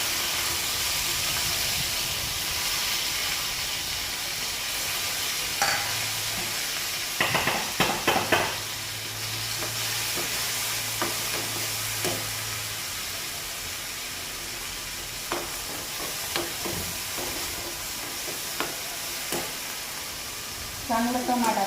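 Ginger and garlic fry in a small pan with a steady sizzle and crackle, stirred now and then, while someone talks over it at moments.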